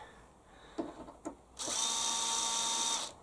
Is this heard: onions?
no